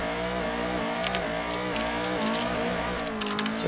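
Racing car engine in the Formula Sim Drift game on the Utah track, a steady loud drone with shifting harmonic pitch throughout, plus brief squeal-like bursts near the end.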